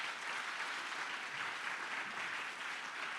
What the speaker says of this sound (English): A round of applause, please, for those.